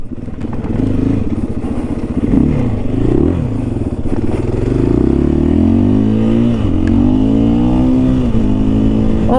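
2023 KTM 500 EXC-F dirt bike on a rocky, slippery trail: a loud, close engine rumbling and revving up and down, rising in pitch as it accelerates, with clattering over rough ground.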